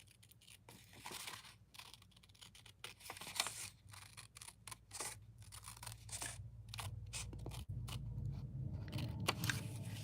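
Sharp, close snips and clicks come in an irregular series as small parts for a wooden garden model kit are trimmed, fairly quiet against a soft low hum, with no talking.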